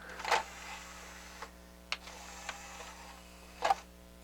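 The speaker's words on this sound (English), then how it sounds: "I put a little drag on the tray, it still loads." A Harman Kardon HK 720 CD player tray loading under slight drag after belt repair: a faint low motor whir with a few soft mechanical clicks and a sharper clack near the end, quiet and close.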